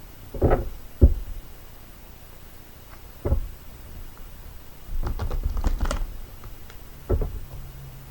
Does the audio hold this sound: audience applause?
no